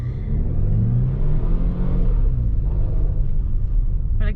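Cabin rumble of a 2021 Ford Bronco Sport engine pulling in third gear at about 25 miles an hour on non-off-road tires, a steady mid-pitched drone rising slightly as it accelerates.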